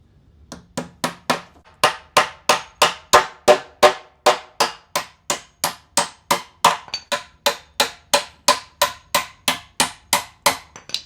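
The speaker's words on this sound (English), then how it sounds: "Or you start with a framing tool like this, line up your side edge, everything's good to go there. And then just drive your first nail in." A hammer drives a nail into a wall stud held by a 16-inch on-center framing tool, about thirty sharp, evenly spaced blows in a fast, steady rhythm, loud and close with no talk.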